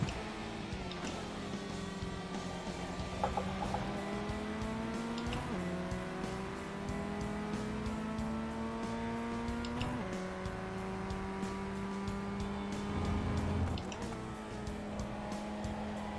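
A race car in iRacing runs a league race, its engine note rising steadily through the gears with repeated shift drops and brief tire squeal. Other cars are nearby and no talk is heard.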